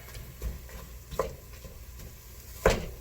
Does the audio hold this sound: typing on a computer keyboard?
no